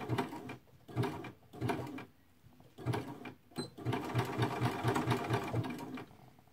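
A sewing machine stitches a bomber jacket with black thread, running in short bursts of rapid rhythmic needle clatter separated by brief pauses, then a longer continuous run, close and moderately quiet.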